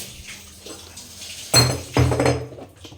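Thakur ji's bowl being rinsed with water: a quiet start, then two close bursts of clattering metal and splashing, a sharp clink followed by a longer rattling wash that fades out.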